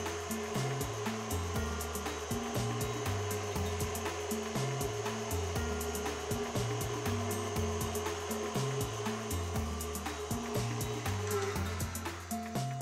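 Blender whipping fish roe while oil is added for a roe salad, a steady motor whir with rhythmic pulsing as the mixture churns, fairly quiet and continuous without speech.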